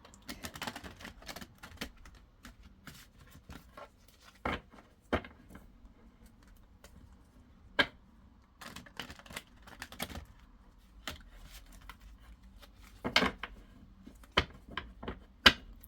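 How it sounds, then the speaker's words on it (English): Stiff tarot cards are riffled and tapped in scattered, uneven bursts of crisp clicks and slaps, close by in a quiet room with long pauses between. "That's terrible shuffling there, but I'm really bad at shuffling this deck."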